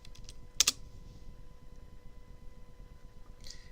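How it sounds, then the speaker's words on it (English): Light keystrokes on a computer keyboard as a web address is typed into a browser, a brief cluster of faint clicks over low room hiss. "I'm going to go to the address box and type uniprot.org."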